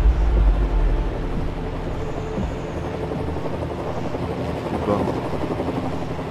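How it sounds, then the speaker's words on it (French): Helicopter rotor drone from a video game, a steady low thudding rumble that holds for the whole stretch at an even loudness, with people talking over it. "L'hélico, toujours, il est là."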